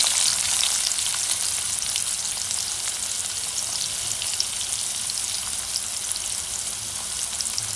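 Curry leaves and onion fry in oil for a ridge gourd aamti, a dense, even crackling sizzle held steady at close range with faint stirring beneath, no talking.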